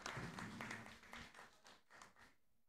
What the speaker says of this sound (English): Let's give a round of applause to Ms. Cato Sarmiento